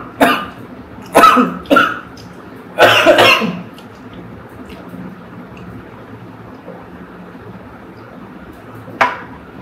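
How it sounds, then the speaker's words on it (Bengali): A man eating alone coughs in a short cluster of three harsh bursts, then a longer rough cough, with a single faint cough near the end and quiet room noise in between. "কাশি উঠছে আমার খাওয়ার সময় কাশি উঠে"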